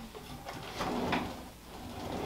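A drawer in a custom tiny house on wheels slides open or shut, a short, close, muffled rumble with a soft knock, set against a quiet room.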